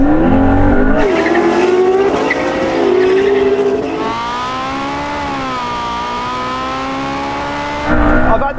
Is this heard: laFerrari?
yes